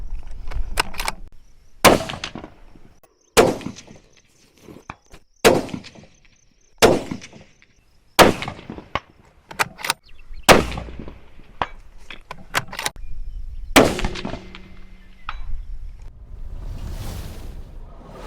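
Sharp bolt-action rifle shots from a Browning AB3 or Ruger American Gen 2, about a dozen loud cracks spaced a second or two apart with clatter between, some firing trouble with the ammunition, no talk.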